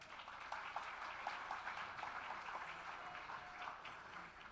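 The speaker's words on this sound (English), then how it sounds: "Please give her a round of applause" A dinner crowd at a county Republican Party banquet claps for the Houston Chronicle columnist being introduced, a soft, steady wash of applause heard from a distance and at low level.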